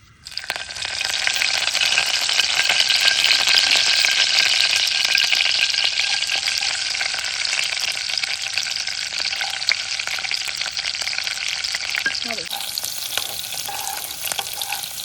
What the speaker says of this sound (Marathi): आता आपण कढीपत्ता आणि मस्त लसूण टाकून फोडणी घेऊया.